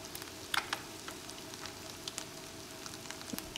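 Boiled eggs cooking in a masala in a pan, stirred with a spoon, a faint bubbling sizzle with light crackles and a few soft spoon clinks against the pan.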